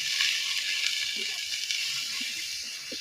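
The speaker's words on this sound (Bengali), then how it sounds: "এবার এগুলো আমি একটু এক মিনিট ভেজে নিব" Steady hissing sizzle of a spice paste of ground cumin, chili powder, turmeric and salt frying in hot oil, constant and close, with a few faint soft scrapes.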